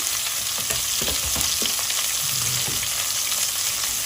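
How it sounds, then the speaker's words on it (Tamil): Sliced onions with a little salt fry in a pan, a loud, close, unbroken sizzle with clusters of crackles and a few stirring scrapes early on, with no voices. "உப்பு சேர்த்து லைட்டாக உப்பு சேர்த்து வெங்காயத்தை நல்லா வதக்கிக்கலாம்"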